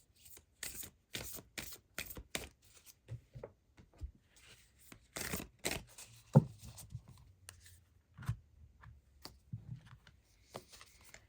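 Tarot cards being drawn and shuffled for a Winter Solstice reading, a series of close, crisp riffling and slapping bursts with short pauses between, alone without talk.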